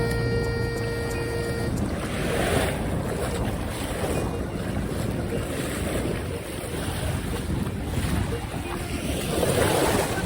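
Sea waves at Masasa Beach on Tingloy Island wash over the shore amid heavy wind buffeting the microphone, a continuous roaring, rushing wash with the surf swelling near the end.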